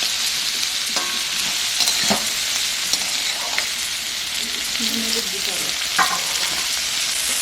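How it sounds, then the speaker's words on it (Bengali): Potato pieces frying with onion in oil in a pan for chirer pulao, a constant sizzling hiss with occasional soft scrapes and taps of a spatula, close by and without talk. "এরপর আলুগুলোকে ভালো করে ভেজে নেব।"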